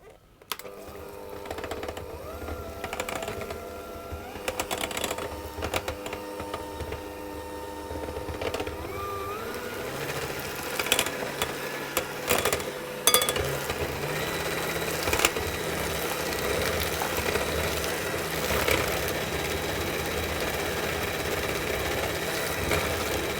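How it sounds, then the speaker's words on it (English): Cream and sugar are beaten in a bowl for mascarpone frosting, giving a continuous busy whirring that shifts in pitch and intensity as the mixture thickens, with occasional knocks and clatters. "I'm going to start to whisk that cream in"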